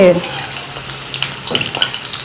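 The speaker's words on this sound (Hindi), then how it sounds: "गरम ऑयल में डाल देना है। मीडियम फ्लेम पर आपने फ्राई करना है।" Batter-coated egg frying in hot oil over a medium flame, a steady close sizzle with soft crackles running throughout.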